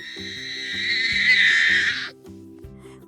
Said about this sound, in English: It's a vulture.